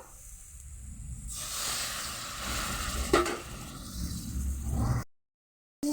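Water poured into hot spiced masala sets off a sudden loud hiss that holds steadily for several seconds before cutting off, heard close with no voices.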